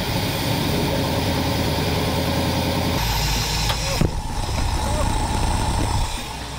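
A rat rod wrecker truck's engine runs in a steady, loud, low idle rumble that shifts in tone partway through, with a brief clunk, and people talk faintly beneath it.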